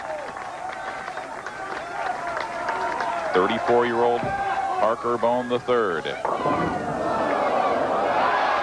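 A bowling crowd roars and cheers after an opening strike in a 1998 championship match, loud and crowd-wide, with a television commentator talking over it.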